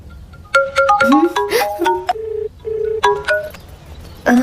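A mobile phone in a Hindi-dubbed film scene rings with a melodic electronic ringtone: a run of bright, clean beeping tones in short phrases, loud and close, with brief pauses between bursts.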